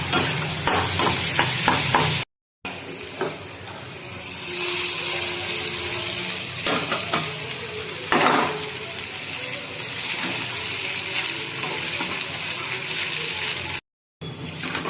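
Ingredients for flattened rice pulao (chire pulao) frying in a pan, a steady broadband sizzle with scraping stir strokes throughout, broken by two brief silences, loud and close.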